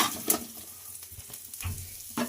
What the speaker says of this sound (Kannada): ನೀವು ತುಂಬ ಲೋ ಫ್ಲೇಮಲ್ಲೇ ಹುರ್ಕೋಬೇಕು.